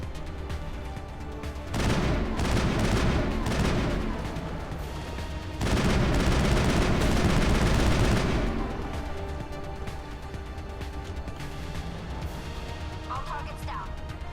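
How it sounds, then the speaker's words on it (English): Gunfire in Mass Effect during the mission to save Liara: two dense bursts of rapid shots and impacts, loud and close, separated by a short lull, with a quieter tail of scattered noise. "Somebody shooting me from behind?"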